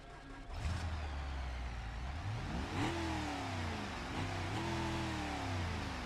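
A drag car engine in the BeamNG video game cranks to life and revs several times, pitch rising and falling in throaty surges before settling into a rumbling idle.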